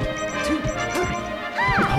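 Forward smash attacks landing in a Super Smash Bros. Melee match between Peach and Sheik, sharp whacking hits with swooshing game effects, a loud crashing burst near the end.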